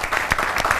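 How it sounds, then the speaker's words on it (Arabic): A studio audience on a TV show with magician Moein Al Bastaki breaks into brief applause, a short, dense burst of clapping close by. "تصفيق لها"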